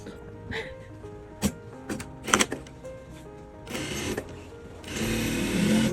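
A sewing machine stitches a pants waistband in short, uneven mechanical bursts of whirring and clatter that grow into longer, steadier runs toward the end.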